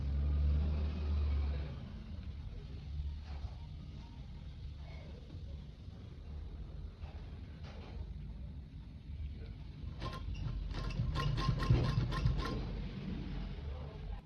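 A sewing machine threaded at tension 3 stitching a small girl's baby frock: a low mechanical hum and faint clicks, then a brisk burst of rapid, rhythmic stitching near the end.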